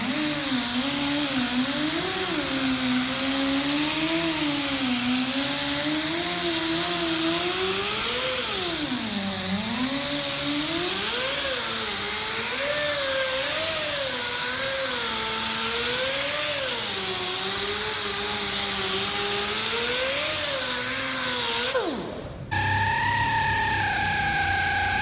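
A power buffer runs at medium speed polishing compound into a metal-flake fiberglass boat repair, a loud steady whir with wavering pitch that cuts out briefly near the end before resuming.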